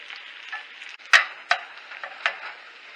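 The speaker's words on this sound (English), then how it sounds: "now I'm going to scramble it up just right in the pan next to the rice" Egg scrambling in butter in a pan beside fried rice, a quiet sizzle punctuated by a few sharp scraping clicks of a utensil against the pan, spaced irregularly, with no voices.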